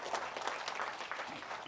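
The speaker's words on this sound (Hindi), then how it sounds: "तो जोरदार तालियां आज हमारे बीसी सर के लिए भी" An audience at a motivational health talk gives hearty applause for a guest, a brief, faint wash of many hands clapping steadily with no one speaking.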